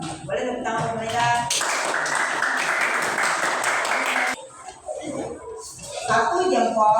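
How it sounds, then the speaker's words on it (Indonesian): A classroom group of primary school pupils claps for a couple of seconds in a bright, busy burst, framed by a teacher and children talking before and after. "Boleh tepuk tangan buat mereka."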